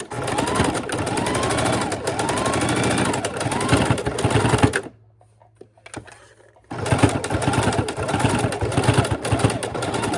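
Sewing machine stitching around a keychain wallet in steady motor-driven runs, loud and close, with a pause in the middle before stitching resumes; the machine drowns out everything else and nobody talks.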